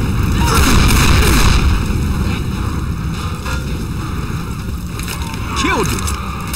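A grenade blasts in the Left 4 Dead 2 zombie shooter with a loud, rumbling boom that rolls off slowly amid game noise, and a second lighter thump follows near the end while voices shout nearby.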